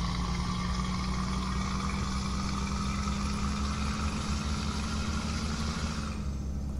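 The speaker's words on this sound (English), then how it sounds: "Truck sounds actually pretty good. It's got a high-pitched whistle" A Mercedes-Benz Actros truck idles in the video game Euro Truck Simulator 2 with a steady, close, low engine drone and a thin high whistle over it. The whistle drops in pitch near the end.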